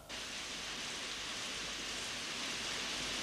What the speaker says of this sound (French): Mais je n'avais pas prévu qu'il pleuvrait.